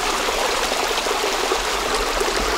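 A mountain creek on a Colorado hiking trail flows in a steady close rushing burble of water, continuous and fairly loud with no voices.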